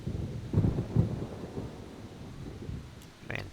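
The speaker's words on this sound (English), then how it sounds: "It's kind of raining on me, I guess." Low rumbling thunder with a steady wash of rain in the survival game Scum, swelling into a couple of deeper rolls early on, then settling to a softer storm backdrop with a faint tap near the end.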